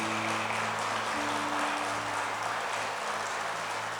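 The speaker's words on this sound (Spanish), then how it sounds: "Denle un aplauso al Señor" Church congregation applauding for about four seconds, a dense, steady wash of clapping filling the space, with a sustained low tone humming underneath.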